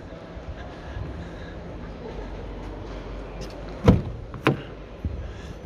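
A camper van's rear door clunks open with a couple of sharp mechanical knocks and latch clicks over quiet background noise.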